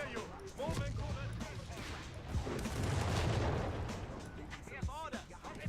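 Gunfire in the World War II strategy game Company of Heroes 3: repeated gunshot cracks and bursts with some distant booms, running under frequent shouted soldier voices.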